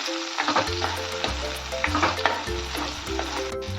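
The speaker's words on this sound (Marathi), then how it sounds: "लसूण आल्याची पेस्ट चांगली परतून घेऊया तेलामध्ये" Garlic-ginger paste and chopped tomatoes sautéing in oil, sizzling continuously up close while a spoon scrapes and clatters against the pan in repeated strokes.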